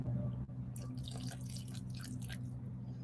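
Water is poured into dry concrete powder, a wet trickling and squishing that lasts a few seconds over a low steady hum.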